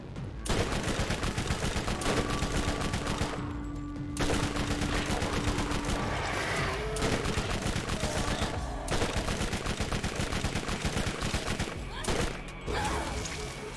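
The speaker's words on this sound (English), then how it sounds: "Who's shooting at me?" Sustained bursts of automatic and repeated gunfire in the video game Borderlands, loud and fairly near, with short pauses between volleys.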